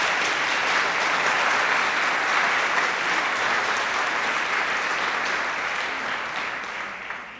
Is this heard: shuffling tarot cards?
no